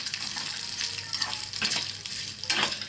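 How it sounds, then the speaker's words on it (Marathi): Sandge vadas, sun-dried lentil dumplings, fry in hot oil for a spicy curry, giving a steady close sizzle with bursts of crackle and spatter and no voices. "आता हे तेलामध्ये वडे टाकून घेते मी चांगले खमंग असे परतून घ्यायचे तेलामध्ये भाजून घ्यायचे"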